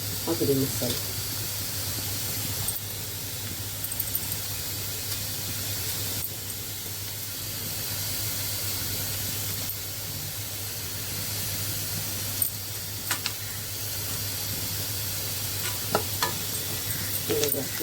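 Coriander powder and garam masala fry in a hot pan, giving a steady close sizzle and hiss while a spoon stirs with occasional scraping clacks against the metal; a voice speaks intermittently over the cooking.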